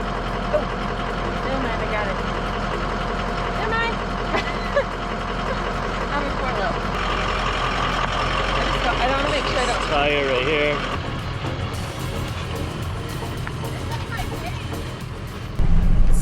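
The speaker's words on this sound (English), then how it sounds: "So, I'm in first gear. We're crawling down the mountain at a snail's pace" A vehicle crawls down a mountain in first gear near Mt Shasta, its engine a steady close drone with road rumble throughout, and people talk over it.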